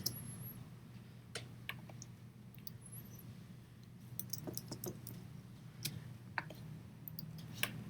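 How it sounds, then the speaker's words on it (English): Computer keyboard typing, quiet and close, in short irregular bursts of clicking keystrokes with pauses, over a low steady hum. "And then I'm just going to type in"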